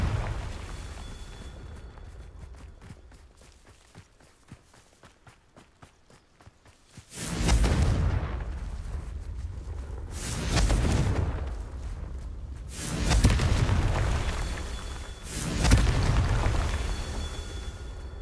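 Repeated Confringo spell explosions in Hogwarts Legacy: after a quieter stretch of light tapping steps, four loud booming blasts land one after another, each a roaring burst that fades before the next.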